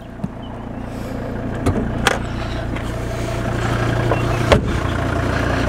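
A used Volvo idling with the bonnet open, a steady low engine hum heard close up, with a few faint clicks and knocks over it and the idle growing slightly louder toward the end.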